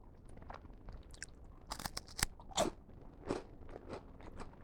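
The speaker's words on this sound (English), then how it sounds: "The initial bite is very dry, very crunchy." Dry, crunchy pink wafer bitten and chewed up close, with a few sharp crackling crunches followed by softer irregular chewing, no talk.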